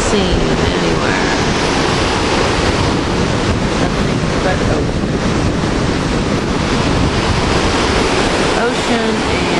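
Ocean waves and wind heard from the deck of a cruise ship at sea, a loud, continuous broadband rush of surf and wind buffeting the microphone, with no clear breaks.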